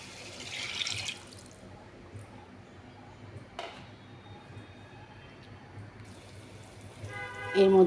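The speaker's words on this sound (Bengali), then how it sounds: "এবার আমি জল দিয়ে দেব।" Water splashes into a wok of fried ground spice paste with a short hissing pour, then a quieter stretch with a single clatter. A brief voice is heard at the very end.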